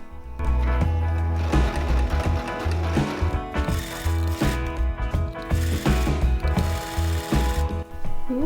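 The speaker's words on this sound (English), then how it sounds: "try not to mess it up when I'm sewing it" A sewing machine stitching armchair upholstery fabric runs in loud, close bursts of rapid mechanical chattering and whirring, pausing briefly between runs, with no talk over it.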